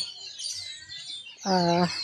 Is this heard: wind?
no